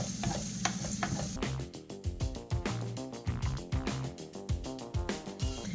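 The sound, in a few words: leftover salata wrap and eggs stirred in a pan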